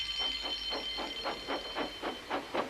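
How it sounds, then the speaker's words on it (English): A steam breakdown train chuffs along with a rhythmic run of about nine evenly spaced puffs over a steady high whine, moderately close and without voices. "The breakdown train! Quickly!"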